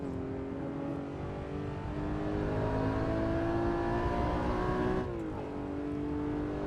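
A Porsche 911 GT3 RS driven quickly, its engine droning steadily as it pulls through the revs, with a brief shift dip and renewed pull near the end.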